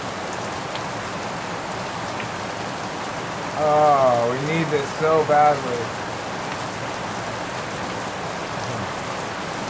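Heavy rain pours down steadily in a dense hiss, with a person speaking briefly over the downpour partway through.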